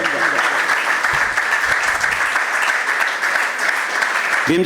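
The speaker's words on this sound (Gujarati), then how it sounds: "મિત્રો, આપણે તાળીઓ પાડવામાં કાચા ન પડીએ" An audience claps for guests on stage at the closing session of an arts and culture workshop. The applause is loud, dense and sustained throughout, with a brief voice near the end.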